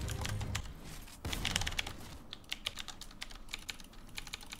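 A typewriter standing in as a keyboard clacks under fast, uneven bursts of keystrokes during a video game, loud and close, with one heavier thump partway through.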